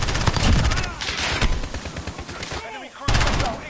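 Rapid automatic gunfire rattles through a Call of Duty Modern Warfare beta match in loud, close bursts with a brief lull, and voices talk over parts of it.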